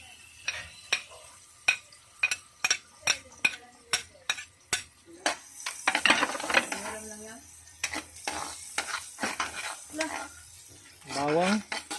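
Onion sautéing in margarine in a pan, a series of sharp spatula taps against the pan followed by a soft sizzle with scraping stirs, with a voice making brief sounds in between.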